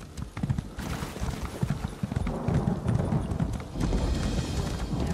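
Horse hooves clip-clop in a steady, quick rhythm as a mount trots along in Elder Scrolls Online, close and fairly loud over light game ambience.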